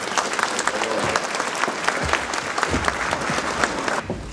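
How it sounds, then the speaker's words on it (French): Applause at a 2013 New Year's wishes ceremony, a crowd clapping steadily and densely throughout at close range, with some low rumble beneath and no speech. "Vous pouvez les applaudir"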